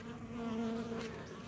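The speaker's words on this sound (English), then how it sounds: "That was a bee." Bees buzzing close by at a beehive fitted with hive gates on a warm 71-degree day after feeding, a steady droning hum with a few louder passes, no talking.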